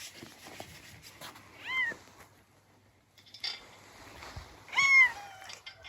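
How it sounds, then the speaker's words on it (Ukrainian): A domestic cat on a farm meows several times, with two clear, close rising-falling cries separated by a pause and a shorter call in between, over faint outdoor background noise. "Хороший кіт, але противний трохи."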